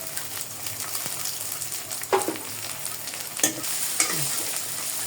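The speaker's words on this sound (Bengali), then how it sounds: "এখন আমি মটরশুঁটি আর টমেটোগুলো পেঁয়াজ মরিচের সঙ্গে ভেজে নিব।" Peas and tomatoes fry with onion and chili in a pan for a rohu fish curry, giving a steady close sizzle and occasional scraping stirs.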